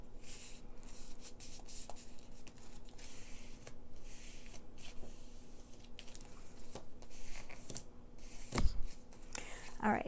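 Paper being cut and handled for a 6x6 scrapbook: soft scissor snips, rustles and scrapes come in irregular bursts, fairly quiet and close, with one louder crinkly thump near the end.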